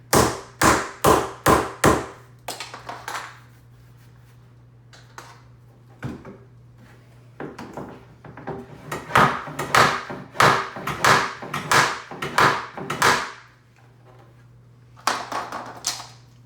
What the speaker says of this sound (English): Sometimes these cabinet fronts are bowed a little bit with some flush here and flush down here. So sometimes you got to knock this out